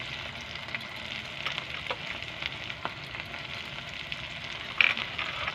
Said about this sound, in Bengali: টমেটো দিয়ে আমরা কিছুক্ষণ ফ্রাই করে নেব।